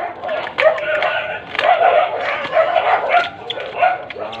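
Several dogs bark and yip in quick, overlapping bursts, fairly close and loud, with a few whimpering notes between barks.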